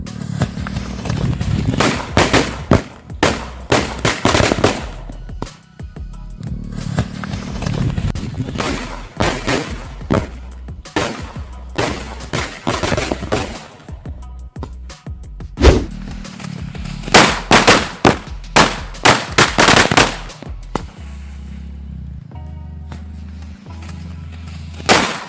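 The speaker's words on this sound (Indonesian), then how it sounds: "mantap sekali itu dia ya petasan jumbonya" Jumbo mercon firecrackers go off outdoors in rapid, irregular bursts of sharp, loud bangs and crackling volleys, with short quieter gaps between the clusters.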